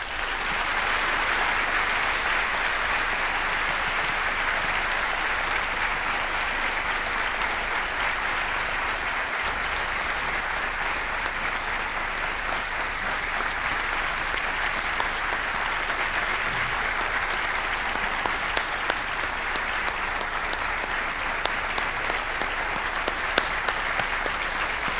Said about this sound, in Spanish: Paren de aplaudir, por favor.